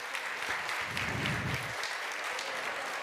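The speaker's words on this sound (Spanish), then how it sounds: "Un aplauso para ella," Steady applause from an audience at a mayors' summit in Viña del Mar, Chile, greeting the female mayor, a continuous wash of clapping throughout with a low murmur swelling briefly in the middle.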